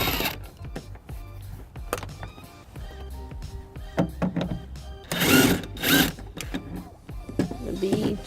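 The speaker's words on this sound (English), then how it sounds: "taking off the bolt." A ratchet loosens a bolt on the side panel of a 2001 Pontiac Aztek, giving close mechanical clicking in short bursts with some louder grinding turns toward the middle, and no talking.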